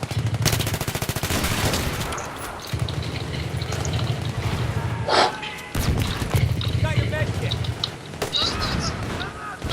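Rapid automatic gunfire from the video game Battlefield 3 rattles in repeated bursts, loud and close, with excited talk breaking in between volleys.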